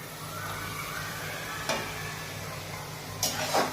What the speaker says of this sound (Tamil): இந்த மாவு போட்டாலும் பொரியறது பாருங்கள்